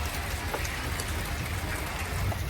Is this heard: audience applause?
no